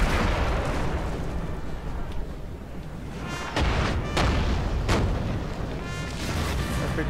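Cannon fire in the video game Napoleon Total War during the Siege of Naples, a continuous rumble of distant booms with several sharp, crackling volleys from massed guns cutting through, with no talk.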